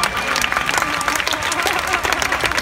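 Steady applause from a studio audience at a Greek music show, dense clapping holding at an even level throughout with some crowd murmur mixed in.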